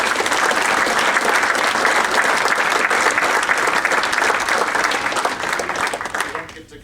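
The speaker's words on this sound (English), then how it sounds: "Let's give them a big round of applause." Sustained audience applause from a crowd at a high school hot stove baseball event, loud and steady throughout with a faint voice mixed in, tapering off at the very end.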